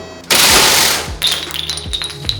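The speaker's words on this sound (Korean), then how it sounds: "자 그러면은 바로 한번 사격을 해보도록 하겠습니다. 네. 사격 개시." A Vulcan anti-aircraft cannon fires a very fast burst, a loud buzzing roar lasting under a second, followed by metallic clinks of spent casings and a few dull thumps as the rotating barrels spin down.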